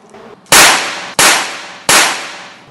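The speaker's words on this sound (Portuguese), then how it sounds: "Eu vou fazer um disparo aqui só, demonstrativo, só para vocês entenderem como é que funciona" A KWC P45 4.5mm PCP air pistol fires three loud, sharp cracks about 0.7 seconds apart, each snapping in close and ringing off briefly, with a faint softer click just before the first shot.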